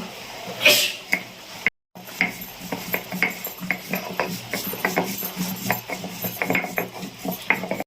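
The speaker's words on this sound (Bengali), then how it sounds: "একটু গরম মশলা বেটে নেব।" Garam masala spices ground by hand on a stone slab while cooking a Bengali fish curry with elephant foot yam, giving steady rhythmic scraping and knocking strokes, close and fairly loud, with a brief gap near the start.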